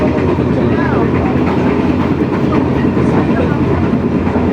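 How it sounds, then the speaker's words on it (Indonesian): The Sritanjung passenger train from Surabaya, hauled by a vintage locomotive, runs with a loud, steady rumble and clatter of the rails, heard continuously at close range, likely from aboard. "beberapa saat itu perjalanan kereta"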